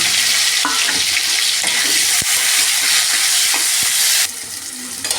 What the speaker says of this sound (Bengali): আমি এতে পেঁয়াজ কুচি টমাটো কুচি দিয়ে ভালো করে ভেজে নেব